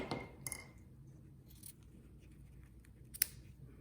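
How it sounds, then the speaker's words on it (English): Scissors cut through craft ribbon up close, with a few crisp snips and a sharper clip near the end against quiet room tone. "And then cut my ribbon."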